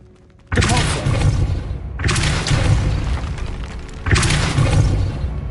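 Depulso spell cast repeatedly in Hogwarts Legacy on PS5: three loud, heavy booming blasts about two seconds apart, each with a rumbling tail that carries into the next.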